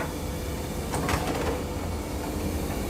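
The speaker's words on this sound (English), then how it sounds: "Aha, it's the water drawer." The plastic water drawer of a washer-dryer in a UK home slides out once, a brief scraping rattle over a steady background hiss.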